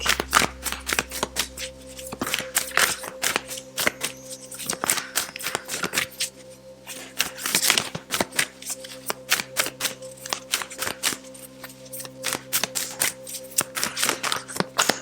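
Oracle cards from a Yogic Path deck are shuffled up close, giving a continuous riffle of papery flicks and soft slaps with a faint steady hum underneath and no speech.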